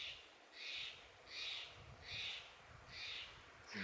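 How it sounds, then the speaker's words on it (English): A bird of prey in the wilderness of the Bob Marshall, Montana, calls four times at a steady, evenly spaced pace, each cry clear but moderately distant over a quiet outdoor background. "I think I hear the hawk crying for it"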